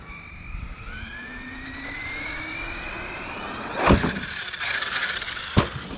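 An Arrma Kraton EXB 6S RC truck speeds up with a rising electric motor whine, then lands jumps off a ramp with two sharp thuds, all heard from close by.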